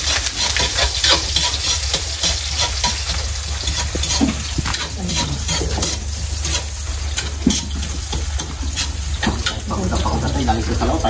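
Fish adobo made with tulingan and coconut milk sizzles and is stirred in a pan, giving a steady frying hiss with scattered scraping clatter, while people talk nearby.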